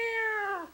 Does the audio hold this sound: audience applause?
no